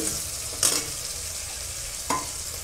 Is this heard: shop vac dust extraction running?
no